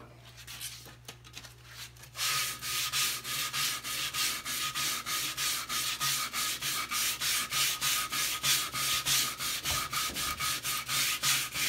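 A Festool sander works a wooden cat boat half hull, starting with a few quiet handling sounds before settling into loud, rhythmic rubbing strokes that repeat steadily to the end.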